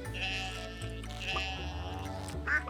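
A goat in a farming video game bleats with a steady, drawn-out nasal call that runs through the whole moment, clear and close with no talking over it.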